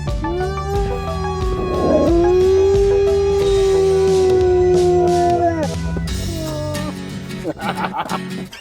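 A dog lets out a long, loud, sustained howl with wavering pitch and breaks into shorter yips toward the end, heard close and indoors.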